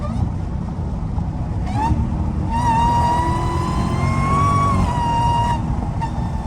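A Dodge SRT Hellcat engine roars at half throttle from inside the car, a loud sustained drone with a whining tone that rises and holds, then drops back before climbing again.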